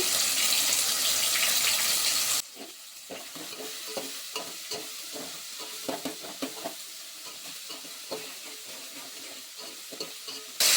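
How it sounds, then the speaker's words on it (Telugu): Chopped tomatoes sizzle loudly in a hot pan with salt for a village-style eggplant curry, then settle into quieter frying under a string of irregular scraping and clacking stirs, with no talking. "టమాటాలు ఈ విధంగా కలుపుకుంటూ ఉండాలి, లేకపోతే అడుగంటుకుంటాయి."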